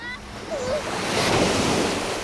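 Sea waves on a beach, a steady rushing surf with wind noise on the microphone, swelling slightly.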